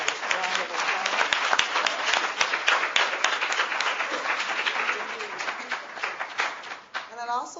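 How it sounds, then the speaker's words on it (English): An audience applauds a panel at a 2007 MALDI event, giving dense, sustained clapping at moderate loudness that tapers off near the end as a voice begins speaking. "I'd like to give our panelists a round of applause"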